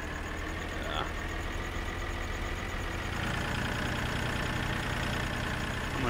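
A tractor engine in the Farming Simulator 2013 video game idles with a steady mid-pitched drone and faint knocking, holding a constant level throughout.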